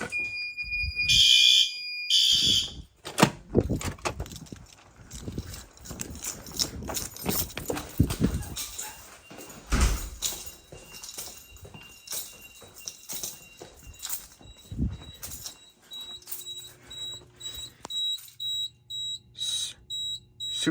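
A home fire alarm system, with garage and house panels connected, sounds a repeating electronic alarm tone that pulses steadily for most of the stretch, loud and close, over clattering handling noise and brief beeps.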